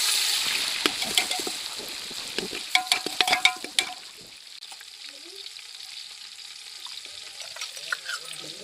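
Green chillies and onions fry in a pan, giving a close crackling sizzle with sharp spattering pops and stirring scrapes that fade to a softer simmer.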